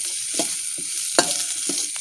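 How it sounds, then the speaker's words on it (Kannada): Onions for onion rice sautéing in hot oil in a pan, a soft continuous sizzle broken by a few sharp scraping stirs of a spatula, close and alone with no talk. "ನಾವು ಚೆನ್ನಾಗಿ ಈಗ ಎಣ್ಣೆಯಲ್ಲಿ ಬಾಡಿಸಿಕೊಳ್ಳುವ"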